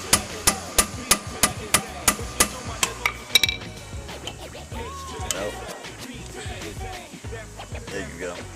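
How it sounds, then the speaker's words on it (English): A socket is tapped onto a brake caliper screw during a front disc brake service, about a dozen sharp metallic taps in a steady rhythm for three seconds, then scattered workshop clatter and handling noises. "you have to tap it a couple times to get it lodged in so you can unscrew it"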